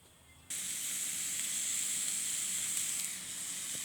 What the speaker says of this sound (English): This is really grilling up nicely. So this pork steak is really cooking great.